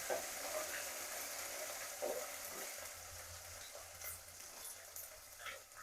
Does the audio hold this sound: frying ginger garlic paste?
yes